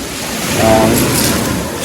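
Ocean surf washing up on a glass-strewn beach in Curaçao, a steady loud wash of waves with wind noise across the microphone, continuous and broadband throughout.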